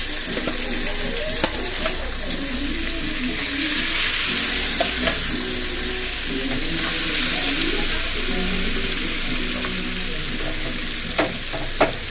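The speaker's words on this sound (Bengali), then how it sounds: "এখানে তো মাছ ভাজা বসিয়ে দিয়েছি" Fish fries in a pan in a home kitchen, a steady loud sizzle with occasional clinks and stirring scrapes, a faint tonal hum underneath.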